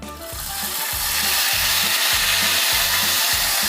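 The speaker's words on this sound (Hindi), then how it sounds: "तो अब हमारा तेल गर्म हो गया है, हीट आने लगी है। अब हम इसमें थोड़ा सा बैटर डालेंगे" Ghevar batter poured into hot oil, bursting into a loud, sustained sizzle that swells after the pour and keeps bubbling steadily, with no voices.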